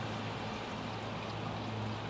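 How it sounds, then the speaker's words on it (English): Fuel pours steadily into the tank of a 1923 Dodge touring car, a continuous low liquid gush with a faint hissing wash, close and even for the whole stretch with no talking. "as I'm pouring it in here"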